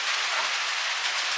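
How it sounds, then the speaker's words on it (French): Heavy rain falls in a dense, steady hiss, loud and unbroken throughout, with no voices. "il pleut toujours, donc on est douché"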